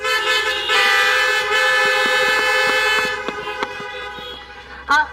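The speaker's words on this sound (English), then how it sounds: "Another honk for our president." Car horns honk repeatedly at an outdoor physician assistant graduation ceremony, one sustained blare followed by shorter toots, then a final brief honk after a quieter stretch.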